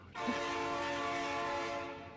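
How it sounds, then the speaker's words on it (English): A train horn in a Factorio-style factory game sounds once, a sustained chord blast starting abruptly and fading after about two seconds, alone and fairly loud. "Wah! Train."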